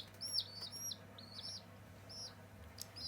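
High, thin peeping chirps repeat in quick bursts, like young chicks calling over a low steady hum.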